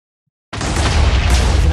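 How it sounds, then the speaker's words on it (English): TNT blast over the creeper zone in Minecraft: after half a second of silence, a loud, sudden explosion erupts into a sustained, rumbling boom that stays strong to the end. "Let's watch the TNT surprise over the creeper zone."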